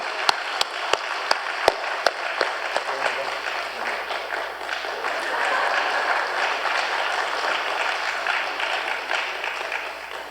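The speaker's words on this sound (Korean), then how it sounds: "따뜻하게 박수" A few sharp separate claps at first, then a dense, steady wash of audience applause at a church worship service that swells and holds, fairly loud throughout.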